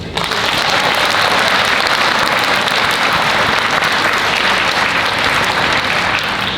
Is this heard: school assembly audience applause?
yes